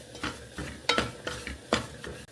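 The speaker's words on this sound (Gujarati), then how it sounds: "જ્યાં સુધી આમાંથી ઘી છૂટું પડે નહીં ત્યાં સુધી આપણે મિક્સ કરવો પડે" Semolina halwa is stirred in ghee in a pan, giving a rhythmic series of scraping strokes, about five, each a soft gritty swish with a light sizzle beneath.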